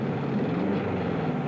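Engine of Herbie the Love Bug car running in a smooth, steady low purr, close and continuous with no talk.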